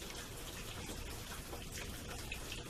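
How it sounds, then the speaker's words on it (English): Rain falls outdoors in a swamp, a faint, steady patter and hiss that holds evenly throughout with no voices. "This rain is calming down a lot of the insects"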